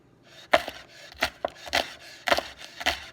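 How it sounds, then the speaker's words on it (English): A knife dices a leek on a cutting board in a steady series of crisp, close chopping thuds, about six strokes with short gaps between them and no voices. "dice my leek"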